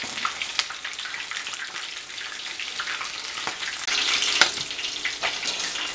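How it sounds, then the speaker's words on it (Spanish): Flautas de panela fry in hot oil in a pot, giving a bright, continuous crackling sizzle that swells slightly toward the end, with occasional sharp pops and no voices. "Aquí tengo una cazuela ya con aceite caliente para empezar a agregar nuestras flautas y vamos a dejar que se nos empiecen a dorar."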